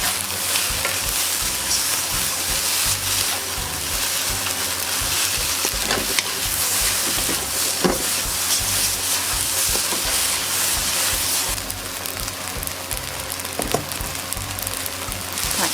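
Food being stir-fried in a hot pan, a loud, continuous sizzling hiss broken by scattered clacks and scrapes of a utensil stirring, with the sizzle swelling brighter toward the end.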